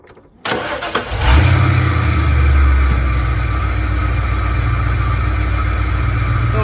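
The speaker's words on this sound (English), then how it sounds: "we're going to start the truck up" A Chevy OBS truck engine fitted with a Go Fast Racing ignition cranks over and starts, with a brief loud surge before it settles into a steady, close idle.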